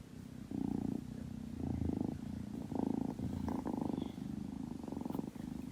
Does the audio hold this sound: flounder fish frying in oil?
no